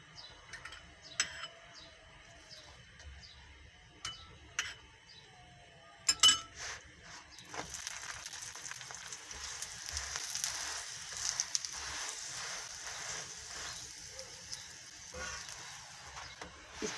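A sweet chini paratha fries in ghee on a hot pan. Scattered light clinks and ticks come first, then a soft sizzle swells into a steady hiss that carries to the end, with no talking.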